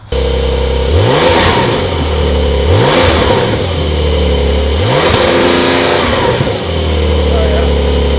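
A Porsche 911 4S engine revs repeatedly against its soft limiter, three or four short loud rises in pitch that fall back to a steady idle, heard close by.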